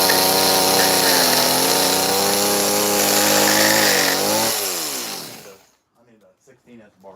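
Chainsaw fitted with a 16-inch bar carving a bear from wood, a loud near steady whine for about five seconds before winding down, followed by brief voices.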